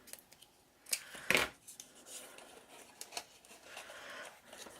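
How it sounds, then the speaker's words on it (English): Scissors trimming paper for a countdown calendar project, giving a couple of quick, close snips with a sharper cut in the middle, faint handling noise around them. "I'm going to trim a little bit more off"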